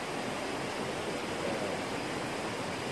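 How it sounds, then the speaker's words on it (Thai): A stream flows beside a campsite in Thai Prachan National Park, Ratchaburi, giving a dense, even rushing wash of water, close and steady throughout with no voices. "ติดลำธารน้ำ"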